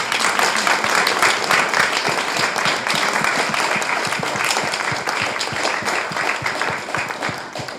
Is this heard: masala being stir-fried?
no